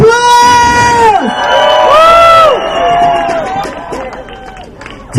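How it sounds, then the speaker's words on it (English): Protest crowd demonstrating against a new bill to let Priti Patel strip people of citizenship, erupting in loud, close cheering and whooping with high rising voices over a dense crowd roar. "Give yourself a round of applause!"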